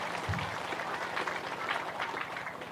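Applause from a large crowd at an Islamic istighotsah prayer gathering, a continuous mass of clapping heard from a distance, steady and moderately loud with no voices over it.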